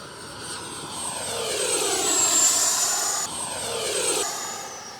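An FMS F-86 80mm electric ducted-fan RC jet makes a full-throttle pass, its high-pitched whine swelling as it approaches and the pitch dropping as it flies by and away.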